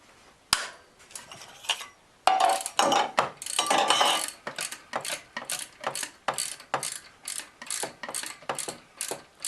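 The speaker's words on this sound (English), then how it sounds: "loosen off this bolt." A hand ratchet clicks in quick, even bursts while loosening a bolt during idler pulley replacement on a 2001 Mazda B4000 (Ford Ranger), up close and loud, with a single sharp knock at the start.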